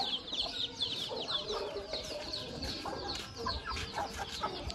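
Chickens, including Shamo birds, cluck and chatter together in a busy rooftop flock, a steady mix of overlapping calls at moderate volume.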